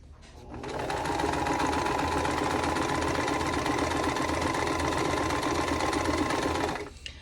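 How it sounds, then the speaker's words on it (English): A sewing machine runs a continuous seam corner to corner across fabric squares for half square triangles, a steady fast motor whir and needle clatter starting after a brief pause and stopping near the end. "So right sides together and sew corner to corner right"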